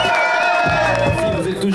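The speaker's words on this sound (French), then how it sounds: "Un tonnerre d'applaudissements pour Axel qui est juste ici à KS." A crowd at a skateboarding contest qualifier gives a short, loud burst of cheering and shouting lasting under two seconds, close and dense, with voices rising over one another.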